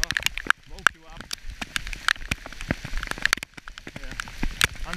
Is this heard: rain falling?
yes